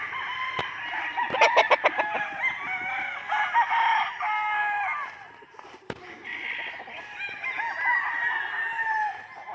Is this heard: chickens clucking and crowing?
yes